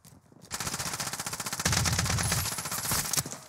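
Dense, continuous automatic gunfire from a zombie-mode video game rattles loudly and nearly without pause, with overlapping bursts that intensify midway.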